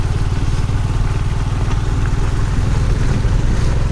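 A motorcycle with passengers on board rides over a rough, broken concrete village road in Arunachal, with a loud, steady engine drone and rattling clatter from up close throughout.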